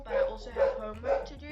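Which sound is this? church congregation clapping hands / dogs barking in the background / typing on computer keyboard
dogs barking in the background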